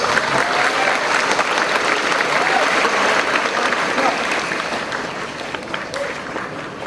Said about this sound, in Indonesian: Berikan aplaus